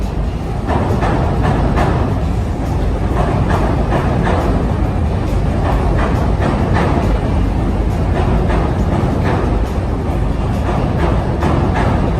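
A train rumbles past loudly and continuously, wheels clacking in a rapid repeating rhythm over a heavy low roar.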